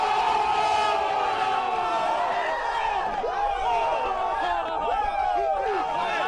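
Hype crowd sound effect, a large group yelling, cheering and whooping together in a sustained, rowdy roar of overlapping voices that stays loud throughout.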